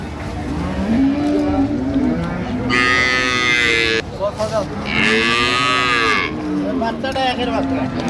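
Dairy cows moo loudly and close by at Ambari cattle market in Dinajpur, two long drawn-out calls over a constant crowd murmur and background chatter.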